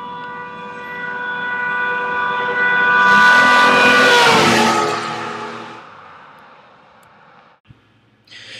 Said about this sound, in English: Notice that the sound appears to be getting louder and higher in pitch as I drive closer to the camera